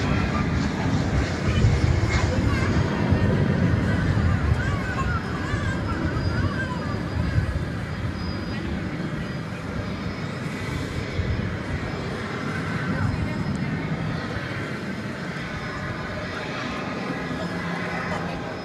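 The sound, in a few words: jet airliner taking off at DFW Airport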